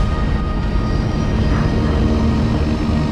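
A seaplane taking off from a seaplane base by the Government Cut channel, both engines at full throttle, gives a steady, loud, close engine roar. It holds constant throughout, with no voices.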